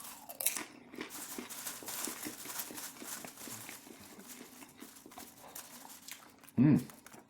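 Salted popcorn popped in sunflower oil is chewed close up, soft crunches repeating in a loose rhythm, with a brief louder burst near the end and some faint talk.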